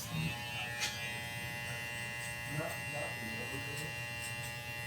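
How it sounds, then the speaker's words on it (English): An electric hair clipper trimmer buzzes at a steady pitch, moderately close, with faint scratching as it moves, while someone talks quietly over it. "I usually don't feel like any resistance when I do this with a trimmer."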